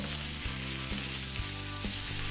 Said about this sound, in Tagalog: Pagdating sa pagluto ng liempo, kailangan muna natin itong i-sear.